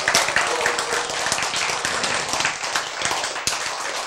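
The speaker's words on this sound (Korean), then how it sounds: "자, 여러분 자신을 위해서 박수!" Lecture audience applauds, a sustained crowd of hand claps with sharp individual slaps standing out, fairly loud and steady, with little talk.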